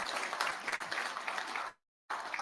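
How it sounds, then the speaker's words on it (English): Applause from a seated audience at a national pharmacy platform launch event, steady clapping that cuts out abruptly near the end, then resumes briefly. "So let's clap for ourselves."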